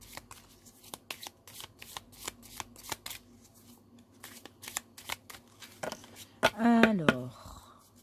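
Tarot cards are shuffled close up in a quick series of crisp riffles and flicks. Near the end a short burst of voice breaks in over the quiet.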